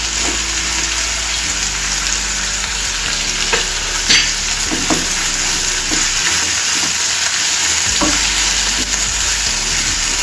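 Chopped ridge gourd, green chili and tomato fried and stirred in a pan, a loud continuous sizzle with scattered spoon scrapes and clinks throughout, close up and without speech.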